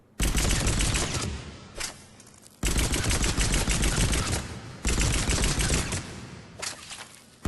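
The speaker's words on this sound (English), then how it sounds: "So now let us try firing down the sights." Three bursts of rapid, loud gunfire from the Eagle pistol in Mass Effect 3, aimed down the sights at target practice. Each volley of cracking shots is separated by a short quiet gap.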